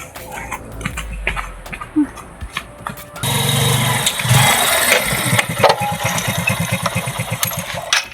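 A motorcycle engine cranks and catches, then settles into a loud, close, rhythmic chugging idle after a few scattered bumps and knocks, with brief voices in a tense night scene.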